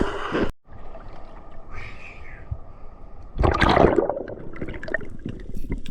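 Strong underwater current rushing past a spearfishing diver: a steady broadband wash that cuts out briefly near the start, then swells into a louder, churning surge midway.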